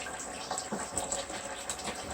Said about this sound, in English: Once you have gotten the squirrels clean, cover them with water as you see here